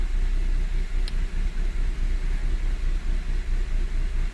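A 2006 Honda Civic engine idles with a rough, pulsing rhythm as its revs rise and fall, a close steady rumble alone with no talking.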